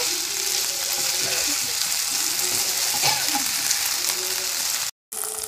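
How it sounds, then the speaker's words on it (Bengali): Marinated chicken fries in white oil in a wok, a continuous close sizzle broken by scraping, clicking stirring strokes, with one brief dropout near the end and no speech. "এর মধ্যে আমি ম্যারিনেট করে রাখা চিকেনটা দিয়ে দেব। এবার দেখো এটাকে আমি ভালো করে কষে নেব।"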